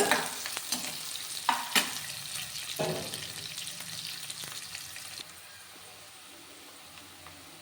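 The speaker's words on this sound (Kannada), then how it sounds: "ಇದಕ್ಕೆ ಇವಾಗ ಈರುಳ್ಳಿನೂ ಹಾಕ್ಕೊಳ್ಳೋಣ ಇದನ್ನ ಇವಾಗ ನೀಟಾಗಿ ಫ್ರೈ ಮಾಡ್ಕೊಳ್ಳೋಣ" Onions and mixed greens fry in a pan for a mix soppina palya, a steady sizzle with sharp scraping stirs near the start that settles into a quieter simmer toward the end; no talk.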